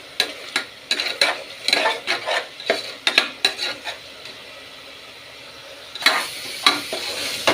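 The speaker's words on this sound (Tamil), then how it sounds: "பாருங்க வதங்கிக்கினே இருக்குது. நல்லா வதங்கட்டும்." Mint rice ingredients sautéing in a pan, with repeated sharp scraping stirs of a spatula against the metal over a steady sizzle; the stirring pauses for a couple of seconds, then resumes.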